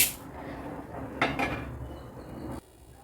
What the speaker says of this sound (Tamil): இப்போ வந்துட்டு நம்ம இந்த பச்சைப்பயிரை போட்டலாம்